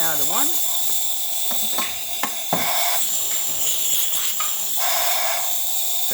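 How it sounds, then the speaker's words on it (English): Steady high hiss of a DeLonghi espresso machine's steam wand running continuously, with brief breaths of talk and clicks passing underneath. "Nice steam coming out of the one."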